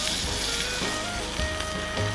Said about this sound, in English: Had enough bacon and eggs left over from this morning to make myself a second meal. Right in the bacon fat.